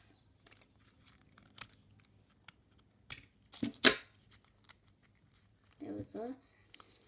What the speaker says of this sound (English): So I'm going to take the scissors.